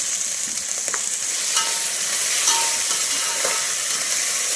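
Peas and small tomatoes sizzle steadily in a pan while bagara rice is prepared, a continuous close frying hiss with a few soft stirring clicks and no voices.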